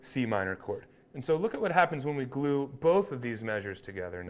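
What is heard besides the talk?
None of the usual background noises is heard.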